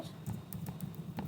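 Brief burst of typing on a computer keyboard during SQL query writing, with a few soft, irregular key clicks close by and no talk.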